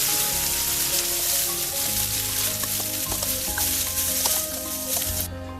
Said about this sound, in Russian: Обжариваем на сильном огне с двух сторон.